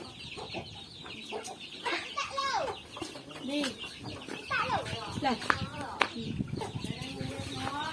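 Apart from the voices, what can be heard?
chickens clucking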